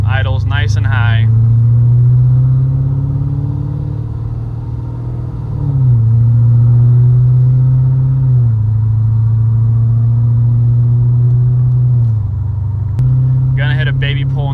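A 426 Hemi Challenger with a street tune holds a steady, fairly high idle after coming to a stop, its loud low rumble droning throughout with slight pitch shifts. Brief voices sound at the start and end.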